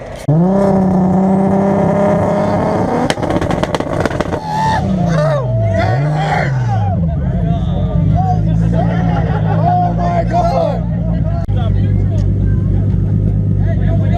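A Nissan GT-R engine runs and revs at an open house, with rising and falling rev sweeps over a steady idle and crowd chatter in the background.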